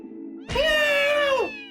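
A person imitates a cat with one long, drawn-out meow lasting about a second. It is loud and close, and the pitch falls at the end. A low hum and faint background voices are heard before it.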